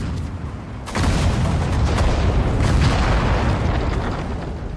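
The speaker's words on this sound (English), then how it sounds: "Another smoke grenade coming there." Smoke grenades pop and burst in Sudden Strike 4, a dense, booming roar of explosions that swells after a second and rolls on continuously, with no voices over it.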